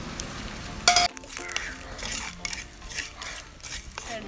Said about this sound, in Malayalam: പെരുംജീരകവും കറുകപ്പട്ട, ഗ്രാമ്പൂ ഇത്രയും കൂടെ നന്നായിട്ട് ഒന്ന് ചൂടാക്കിയെടുക്കണം.